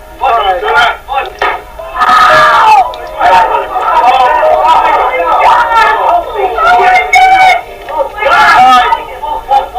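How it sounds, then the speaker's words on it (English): People scream and shout in loud, frantic bursts, several voices overlapping in a chaotic crowd-like din that carries on for about ten seconds. "You can just hear the screams and all that stuff"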